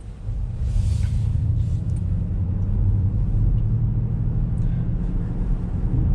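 A Ford Mach-E electric car driven over a bumpy, potholed road, heard from inside the cabin as a steady low rumble and road roar with faint thumps, continuous and close.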